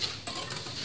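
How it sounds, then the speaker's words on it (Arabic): A spoon stirs egg, sugar and vanilla together in a bowl for mini banana pancakes, giving a brief, soft scraping swirl close up with no talk. "نحرك"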